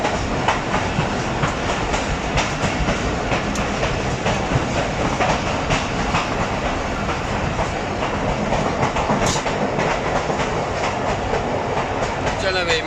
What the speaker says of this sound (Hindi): ट्रेन कंगनपुर रेलवे स्टेशन पहुँच रही है